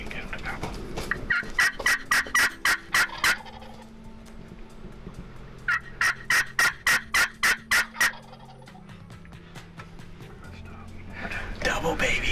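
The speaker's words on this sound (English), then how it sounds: "see if you can get him to gobble." An Eastern longbeard wild turkey on a Missouri farm during turkey season gobbles in two loud rapid rattling runs, each a quick string of pulses, with people talking under and between the calls.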